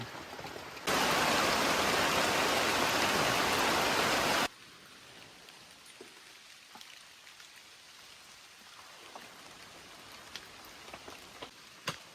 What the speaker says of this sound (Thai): เสียงเสียงฝนแบบเพลินมากครับ